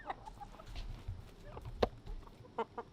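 Chickens cluck in a coop, a few short nearby clucks and squawks over a low rumbly background, with one sharper call standing out midway.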